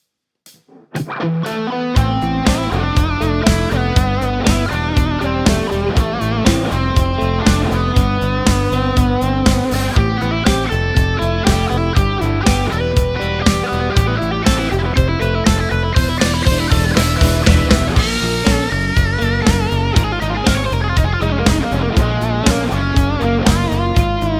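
A dense, distorted synth and drum passage that moves from the five chord to the flat two, shifting up a half step into a new key, loud and driving throughout with no talking.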